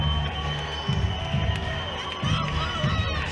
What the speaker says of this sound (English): It's like the whole crowd's yelling.